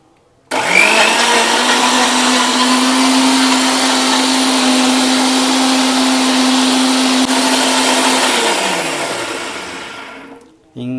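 A kitchen blender whirs loudly, blending jaggery, avocado and water into juice. Its motor starts abruptly, holds a steady high-pitched drone for about eight seconds, then winds down and cuts off.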